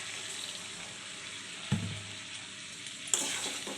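Chicken dopiaza sizzles steadily in a pan, with two sharp bursts of hissing as a little water hits the hot oil, close and quiet, with no talking.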